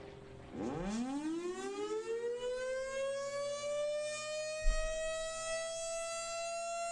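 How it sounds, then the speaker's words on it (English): A single-tone civil defense tornado siren winds up from a low growl to a loud, sustained single-pitch wail, holding steady, with a brief thump partway through. "First off, you have a single tone siren"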